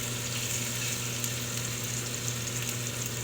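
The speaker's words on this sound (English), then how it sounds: "So once I sear this," Chicken with herbs searing in a hot pan gives a constant, dense sizzle, close and steady throughout with no talking.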